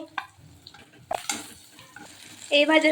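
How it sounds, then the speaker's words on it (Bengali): Dhoka lentil cakes fry in a pan with intermittent stirring and utensil clinks, then a louder burst of sizzling near the end, with no voices. "এইভাবে সব ধোকাগুলো আমরা ভেজে নেব"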